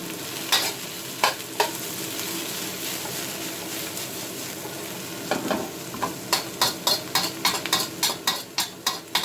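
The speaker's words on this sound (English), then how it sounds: "And get these stir fried slightly." Beef stir-fried in a wok for crispy chilli beef: a steady sizzle runs throughout, broken by sharp metallic scrapes and clacks of the utensil against the pan that become a quick regular rhythm toward the end.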